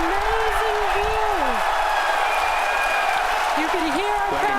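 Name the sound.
crowd cheering during Falcon Heavy side booster landing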